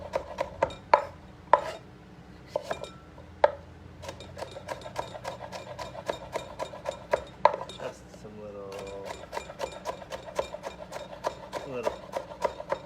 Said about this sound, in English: Just going to cut these in strips.